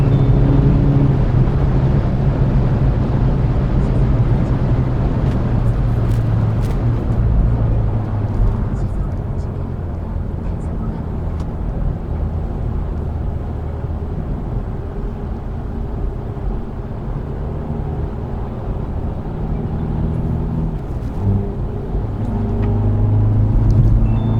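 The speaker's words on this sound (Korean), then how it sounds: "지금 6단인데 6단에서 악셀을 끝까지 밟으면" A Hyundai Veloster N driven flat out in sixth gear, with a steady low engine and road drone heard from inside the car, holding a constant level across the run and swelling slightly near the end.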